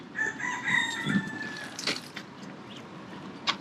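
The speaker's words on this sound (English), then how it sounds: "Did you hear the rooster? Cock-a-doodle-doo!" A rooster crows once, a clear drawn-out call with rising and falling notes, followed by a few faint clucks and rustles in a quiet outdoor setting.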